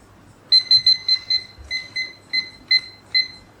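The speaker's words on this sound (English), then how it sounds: "Timer is up." Kitchen timer alarm going off, a loud, near, high-pitched electronic beeping in rapid repeated bursts.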